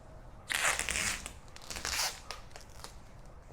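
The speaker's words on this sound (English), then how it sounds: "let's go ahead and get our knifeless tape cut" Knifeless tape filament pulled through black vinyl stripe film on a C8 Corvette, heard as two short, close crisp tearing rasps separated by quieter rustling.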